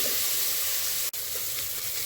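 Onion and green chilies frying in a pan, a steady close sizzle and hiss that is cut by a single brief break partway through before the frying carries on.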